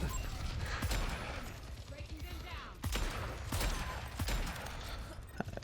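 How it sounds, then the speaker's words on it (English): Ashe fires repeatedly at an enemy shield in an Overwatch 2 competitive match, sharp rifle shots landing in irregular bursts over game noise, with a voice talking over it. "Just gonna shoot the shield, as there's nothing else to shoot."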